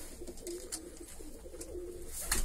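Armenian pigeons cooing in a loft where birds sit on eggs, soft repeated low coos at close range with light rustling and no talk.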